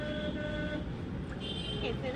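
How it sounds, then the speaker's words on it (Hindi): A cracked, damaged car horn blares during city driving, giving two harsh, buzzy toots over a background of road traffic. "पूरा फटा हुआ आवाज निकल रहा है हॉर्न का"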